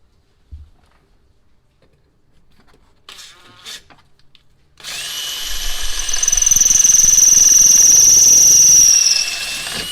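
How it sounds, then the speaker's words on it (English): Power drill boring a 1/4 inch hole in a Can-am X3 door during installation of a door assist, preceded by quiet handling clicks, then a loud, whining motor with rising pitch that runs steadily for about five seconds. "we're going to drill a 1/4 inch hole right here"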